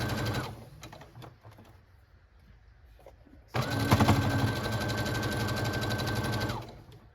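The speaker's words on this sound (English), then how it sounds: "Pop it in the sewing machine on that 1/4 inch mark." A sewing machine whirs in two runs of rapid, rhythmic stitching on quilt fabric, a short burst first, then a pause with light handling noises, then a longer, louder steady run.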